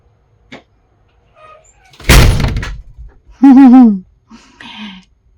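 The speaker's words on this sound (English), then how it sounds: "my front door just blew shut because the wind slammed it shut" A front door is blown shut by the wind and slams once, a loud close bang with a rattling tail. A short, high, wavering vocal cry and softer rustling follow.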